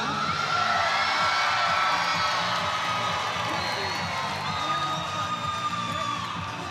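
A crowd at a women's basketball game between USA and Bosnia and Herzegovina cheers, shouts and whoops loudly and continuously, with high voices rising above the roar and a commentator talking underneath.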